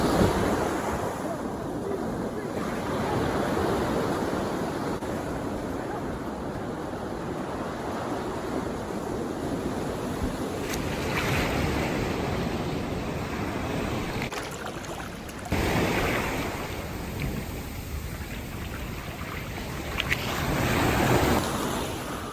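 Surf washing onto a beach at Manuel Antonio National Park, Costa Rica, a steady broadband rush of waves with gusts of wind buffeting the microphone, swelling near the end, with no talking.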